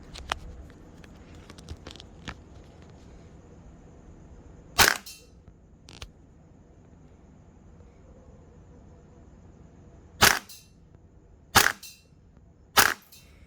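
Airsoft MPX firing 0.25 tracer BBs on the lowest hop setting: sharp, loud single cracks, one near five seconds and three more spaced out at the end, with faint clicks and quiet handling between.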